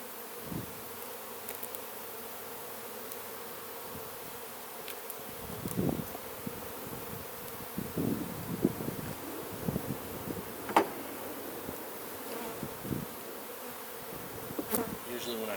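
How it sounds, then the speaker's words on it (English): Honey bees flying around a hive, a dense continuous buzzing swarm close by, with soft thumps and handling noises scattered through it. "Usually when I have this many bees flying around"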